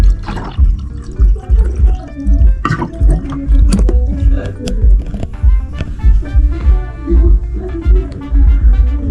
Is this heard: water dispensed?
yes